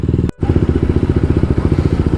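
A motorcycle engine runs steadily and loud up close with a pulsing low rumble, briefly cutting out for a moment near the start, as the bike leaves the highway and rides into a city.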